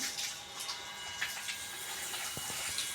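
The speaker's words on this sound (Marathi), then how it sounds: "हे धुतलेलं पाणी आहे ना हे बघा असं सगळं जातं नालीतून" Washing water runs steadily into a drain channel in a house courtyard in Konkan, a continuous close splashing flow with a pump motor switched on.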